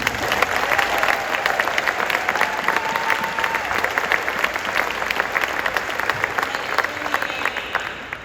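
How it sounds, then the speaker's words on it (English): A high school crowd cheers an Olympic gold-medal volleyball player with vigorous applause, many distinct sharp claps in a dense, lively patter that stays strong throughout, with faint crowd murmur beneath. "just give her a round of applause"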